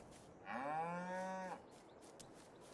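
A single long, deep moo from a cow in the video game Farming Simulator 22, lasting about a second, clear and fairly close against a quiet farm background.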